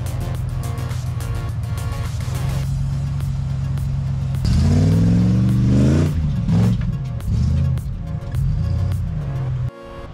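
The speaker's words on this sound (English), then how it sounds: "here comes the Mitsubishi Pajero" A Mitsubishi Pajero 4x4 on an off-road trail challenge revs its engine hard, rising to a loud close roar that dips and surges before cutting off.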